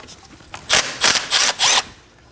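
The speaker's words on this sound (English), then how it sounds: "Using a 10mm socket, go ahead and take it out." A 10mm socket on a ratchet or power tool backs a bolt out of the steering knuckle of a 2011-2016 Kia Optima, four short, loud whirring bursts up close with brief pauses between them.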